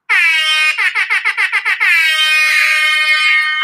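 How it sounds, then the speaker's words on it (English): A loud, blaring air horn sound effect played on a live stream: one long blast, then a quick series of about eight short staccato honks, then another sustained blast, alone and close. "So I got your air horn"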